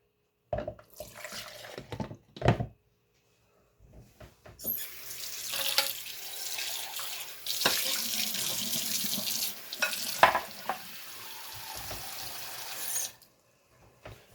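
A couple of short clinks, then liquid pours steadily into a measuring cup for several seconds, splashing close by before it stops.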